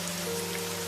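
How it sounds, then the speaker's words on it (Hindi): Heavy rain in a Hindi moral story scene falls as a steady, dense hiss with no voices, brief and moderately quiet. "लेकिन इतनी तेज बारिश में हम कहाँ जाएंगे?"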